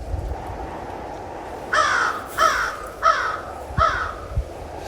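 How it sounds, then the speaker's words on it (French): Crows caw four times in a steady sequence, harsh rasping calls spaced about half a second apart, moderately close above a constant outdoor rumble at night. "C'était juste des oiseaux."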